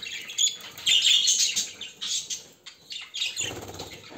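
Caged birds flap their wings in rapid, fluttering bursts close by, mixed with a few chirps and scratchy movement, loud and uneven over about four seconds with no voices.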